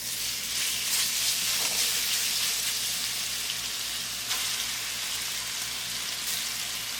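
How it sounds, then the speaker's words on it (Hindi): Chicken for fajitas fries in a few tablespoons of oil in a pan, with a dense, continuous sizzle and crackle that holds steady from start to finish with no voices. "पैन में हम तेल डालेंगे"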